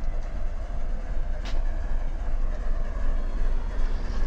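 A train arriving in a railroad simulation game, a steady low rumble of rolling wagons and track noise at an even level throughout, with no voices.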